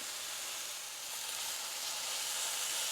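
Hamburger steak searing in a skillet over low-medium heat, a steady, even sizzle and hiss running unbroken at moderate level with no talking.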